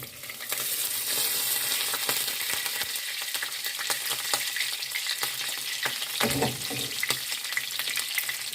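Homemade meat cutlets frying in a pan, a dense continuous sizzle with crackling pops, close and steady throughout, with no talk.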